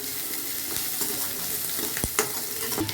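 Onions, small onions, garlic and curry leaves sauté in a pan for an ivy gourd fry, a steady close sizzle with a few brisk stirring scrapes near the end and no talking.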